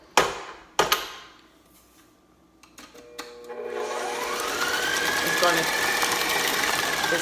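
A stand mixer fitted with a scraping paddle beats sweet potato pie filling, a steady whirring motor hum that starts after a few sharp knocks and builds to a continuous drone with rhythmic churning.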